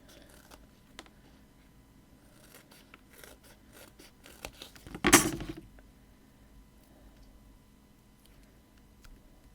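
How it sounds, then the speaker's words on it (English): Scissors snip through thin foam pads, with faint scattered clicks leading up to one sharp, brief cut near the middle, close and otherwise quiet. "I'm actually going to cut some foam pads just to raise this, so they just need to be quite thin."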